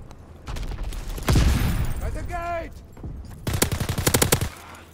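Rapid bursts of automatic gunfire from a Call of Duty match ring out in loud volleys with short gaps, mixed with game sound effects and background chatter.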